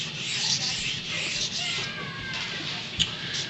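A dull knife is freehand sharpened on a stone in back-and-forth grinding strokes, a close, soft continuous rasping rub with one brief knock near the end.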